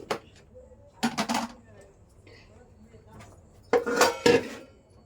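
A cooking pot is handled for boiling milk in a home kitchen at night, giving a few short metallic clanks and clatters in two bursts, with quiet household background between them.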